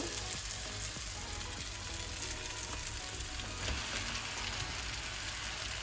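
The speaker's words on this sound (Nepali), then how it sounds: "अब म यसमा चिउरा राख्दैछु" Flattened rice tipped into a pan of frying potatoes, tomatoes and onion gives a steady, close crackling sizzle that runs unbroken throughout, with faint stirring scrapes mixed in.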